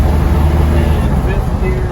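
A 1991 Land Rover Defender 90 with the 200tdi diesel engine shifts into fourth gear while driving, a close, steady low engine rumble with some road noise.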